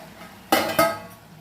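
A metal pot lid set down on a pan while carrot halwa cooks, two quick clanking contacts with a short ringing tail, close and clear with no talk.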